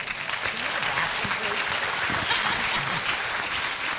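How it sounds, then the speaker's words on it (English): A roomful of real estate associates applauds at a speaker presentation, a dense, continuous wash of claps at even loudness for several seconds. "Let's give a good round of applause."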